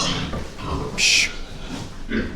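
Sows grunt on a pig farm, close, loud snorts and squeals rising in bursts while a person talks nearby.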